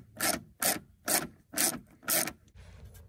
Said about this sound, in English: You just got 3 10-millimeter bolts. They pop out and your whole headlight comes out.